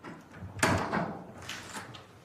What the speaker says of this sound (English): The team are able to enter the flat with the front door key.